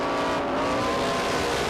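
Stock race cars roar at Beech Ridge Motor Speedway during weekly short-track racing in 1993, a loud continuous engine drone as the field accelerates, with a hint of tire noise.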